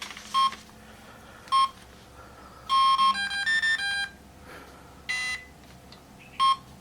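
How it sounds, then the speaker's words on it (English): A Swordfish electronic speed controller on an RC model sounds its startup beeps, a series of short electronic tones in spaced bursts, with a longer run of stepped tones in the middle, clear and close with no talking. "Okay, now we listen for the beeps."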